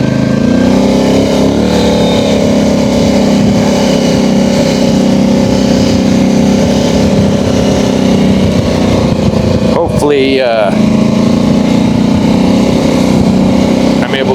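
An 850 high-output engine drones loud and steady at close range for the whole stretch on a ride near an Alaska glacier, with a person talking briefly over it.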